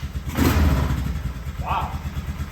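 A Polaris Sportsman 6x6 ATV revived after years of sitting, its engine catching and running at a low rumbling idle after the key is turned, close by, with a short voice sound partway through.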